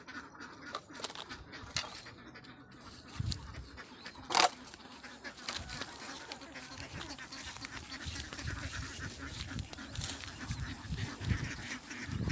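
Domestic ducks quack and honk in a pen beside a river, with a steady chorus of overlapping calls close and far and one louder call standing out, under quiet outdoor background noise.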